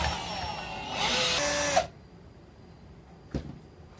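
A power drill spins a paddle through epoxy in a container, a steady whirring grind for nearly two seconds that stops abruptly, followed by quiet and a single brief knock.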